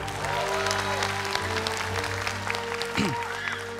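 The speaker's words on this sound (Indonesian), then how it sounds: "Sekali lagi tepuk tangan buat Cassidy." Audience applause at the Indonesia's Got Talent 2022 grand final, steady clapping from a large crowd under a host's voice and music.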